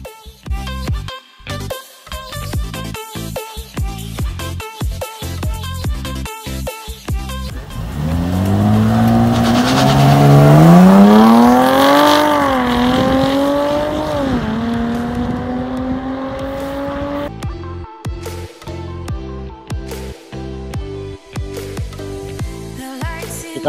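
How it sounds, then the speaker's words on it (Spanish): A Jaguar XF 300 Sport drives on the Tocancipá race track. Its engine revs up loudly and climbs through the gears with rising, sweeping tones, then settles back into steadier driving. Tires squeal during the push. "El carro que tenemos acá es un Jaguar XF 300 Sport, la versión más deportiva"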